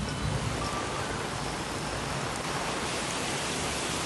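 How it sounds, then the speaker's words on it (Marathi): Heavy rain pours down around Uran and Navi Mumbai in the Mumbai region, a dense, steady wash of noise with no distinct drops or pauses, moderately loud throughout. "मात्र आता पाऊस सुरू झालेला आहे पुन्हा एकदा"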